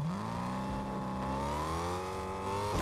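A car engine in the Fortnite video game revs steadily, its rising harmonic drone holding loud and close for about three seconds before cutting off abruptly at the end.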